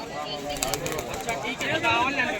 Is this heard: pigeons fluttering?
yes